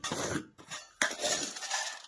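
Roasted chickpeas and ghee tipped into a steel mixer jar, giving a few close clattering, clinking bursts of dry pieces against metal, separated by a short pause.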